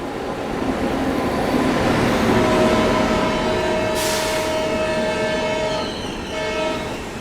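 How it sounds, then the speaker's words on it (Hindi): A Belagavi–Mysore Express running through a station, a steady loud rumble of wheels on rails with a long sustained horn blast in the middle and a second shorter blast near the end. "अभी देखो सामने से भी कोई ट्रेन आ रही है"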